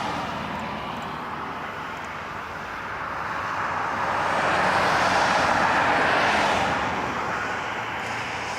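Aircraft taking off from runway 05 at a cold, snowy Toronto airport: a broad, steady jet roar that swells to a peak mid-clip and then eases, heard from a distance with no talk.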